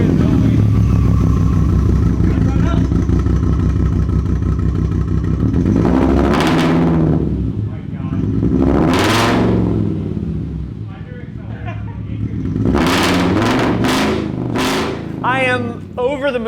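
A VW Lupo GTI fitted with a swapped VR5 engine idles roughly and loudly, then revs hard in several sharp bursts; excited voices talk over the engine noise.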